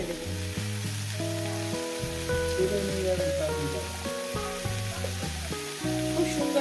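Pumpkin and onion fry in a pan with a steady, close sizzle that carries on throughout, with background music playing underneath and no talking.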